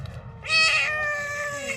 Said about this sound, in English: She's not a very cooperative cat.